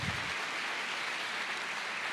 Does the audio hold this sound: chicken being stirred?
no